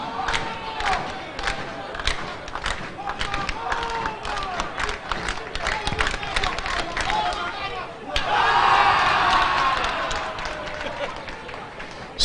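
Calabar supporters in a National Stadium crowd at the Camperdown Classics 2023 athletics meet, chanting and cheering loudly with rhythmic claps and drumming, swelling to a roar near the end, under a voice talking.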